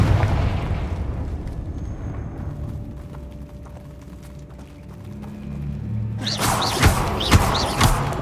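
A fiery Confringo spell explodes in Hogwarts Legacy, a booming burst with heavy thuds and crackling debris, followed by further sharp impacts and bright magical bursts in the game's combat.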